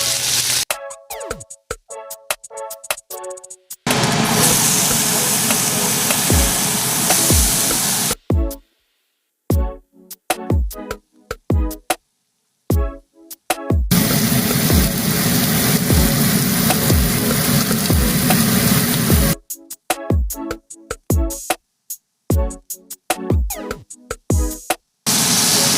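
Steak sears in a hot pan for a ramen dish, loud hissing sizzle in long bursts broken by abrupt silent gaps and short clipped fragments.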